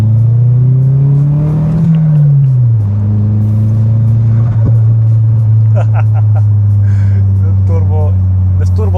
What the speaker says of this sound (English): The turbo sounds are amazing.